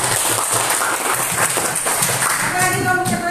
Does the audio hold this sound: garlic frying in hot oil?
no